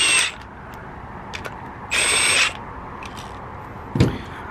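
Screws are driven into the grille of a fifth-generation Toyota RAV4 during a TRD Pro style grille install, with three short, close bursts of a power driver separated by quiet pauses.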